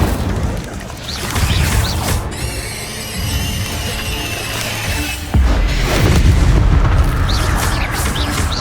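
A loud fiery blast from the Incendio spell in Hogwarts Legacy bursts out, followed by a crackling rumble and a second heavy boom, all against dense game music and effects.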